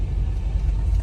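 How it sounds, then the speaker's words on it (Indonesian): A Volvo 960GL engine held in first gear on an uphill climb, a steady low rumble with no break, close and fairly loud, with no voices over it. "Tuh. Bunyi RPM-nya juga naik tuh."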